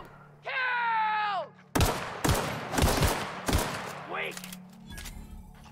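Gunfire in The Outer Worlds: after a long rising tonal whine, a burst of four or five loud, sharp shots rings out close, followed by a short sweeping tone and a dull thud.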